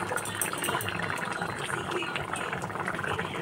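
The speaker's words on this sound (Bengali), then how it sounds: "আমার সয়াবিনের জলটা ফুটে উঠেছে" Water bubbles at a rolling boil in a pot of vegetarian potato and soybean curry, a continuous, close, even gurgling hiss that holds steady throughout.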